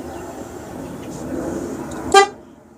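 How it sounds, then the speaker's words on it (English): A loud car horn fitted on a motorcycle gives one short, sharp honk near the end, standing out abruptly over quiet background noise. "Which it has a car horn on it, and the horn's pretty goddamn fucking loud."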